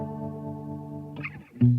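Polar Vortex chorus pedal giving a warm 1980s-style chorus tone on a sustained guitar chord, then a few shimmering picked notes and a louder swelling chord near the end.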